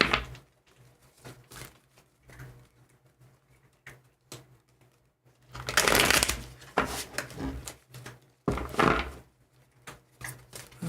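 Tarot cards shuffled by hand, with soft scattered rustles and taps early on, then several louder, close riffling bursts of crisp papery flutter separated by brief pauses.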